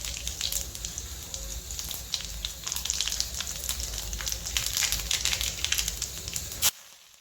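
Cumin seeds sizzle and crackle in a hot pan of oil, a loud, close, continuous frying hiss with sharp pops throughout before cutting off abruptly at the end.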